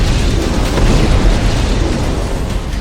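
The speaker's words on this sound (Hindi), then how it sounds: "जो धमाका है उसमें ना सिर्फ इजरायल का टैंक फट रहा है" A heavy, sustained blast roar of an Israeli tank exploding fills the clip, loud and rumbling with crackling debris noise throughout.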